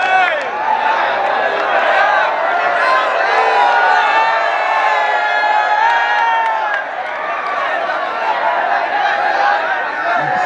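Large outdoor crowd at a mushaira poetry gathering in Karauli, Rajasthan, cheering, whooping and clapping in a loud, sustained wave to welcome poet Imran Pratapgarhi, with shouts and voices blended into the roar throughout.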